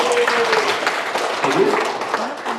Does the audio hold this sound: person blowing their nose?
no